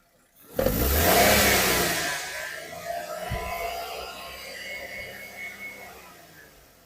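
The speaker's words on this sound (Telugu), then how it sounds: "చాలా సైలెంట్గా ఉంది ఇంజన్ కూడా." Petrol engine of a 2020 Maruti Alto VXI with ABS starting up, rising in a brief rev, then settling into a steady, fairly quiet idle hum heard close and alone.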